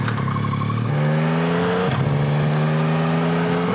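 Yamaha Tracer 9 GT motorcycle engine on a first ride, a steady close drone that climbs smoothly in pitch through a couple of gear pulls, loud and continuous with wind rush and no talk over it.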